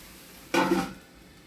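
A single brief metallic clatter rings out as a lid settles onto a pot of squash and water, close by, against quiet background hiss.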